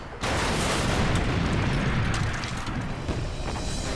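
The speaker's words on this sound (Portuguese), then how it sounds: "O Focke-Wulf danificado atinge o chão em uma grande explosão." A damaged Focke-Wulf 190 fighter crashes into the ground in a large explosion: a sudden loud broadband boom followed by a sustained roaring rumble that slowly fades over several seconds.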